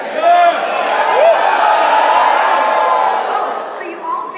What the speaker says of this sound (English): I want to see which side of the hall has the most youngest and energetic crowd.